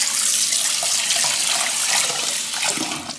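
Cold tap water runs steadily into a bowl as a Kerala cook rinses ingredients for mango payasam, a continuous close splashing and gurgling with no talk.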